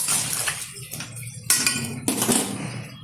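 Water poured into a pan of ridge gourd and potatoes splashes and sizzles, with metallic clinks of the pan and utensil and a few sharp bursts of spatter.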